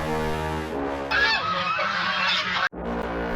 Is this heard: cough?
no